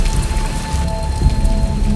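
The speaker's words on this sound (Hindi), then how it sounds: "जोरों की बारिश होने लगी।" Steady rain hisses and patters on a surface, a dense continuous wash with a faint low rumble beneath it.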